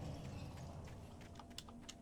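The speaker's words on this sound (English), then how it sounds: "I'll scoot my keyboard back up." A computer keyboard shifted and slid across a desk, giving scattered soft knocks and clicks over a steady low room hum, close and fairly quiet.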